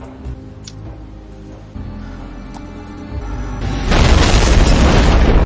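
Bomb explosion in an action film, a deep booming blast that builds into a loud, sustained roar of rumble and debris after a tense lead-in.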